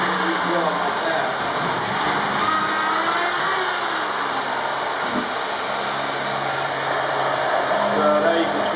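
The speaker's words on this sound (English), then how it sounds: "Got the vacuum running here" A vacuum cleaner runs steadily in a home workshop during Kreg jig pocket-hole drilling, a continuous loud whine and hum that holds level throughout, with some low thumps and faint talk beneath it.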